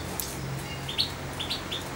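A tame, captive-bred goldfinch about three months old gives a few short, high chirps scattered over a steady background hiss, fairly close and with no talking.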